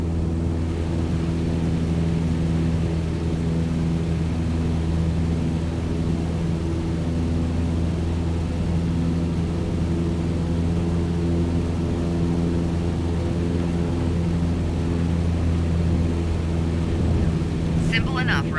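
Steady propeller-plane engine drone in Microsoft Flight Simulator during a training flight, a constant loud hum with strong low harmonics running unbroken throughout, alone without talk.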